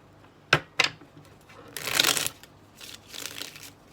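Tarot cards being shuffled close by: two sharp snaps, then a longer riffling burst and softer rustling passes of the deck, with no talking.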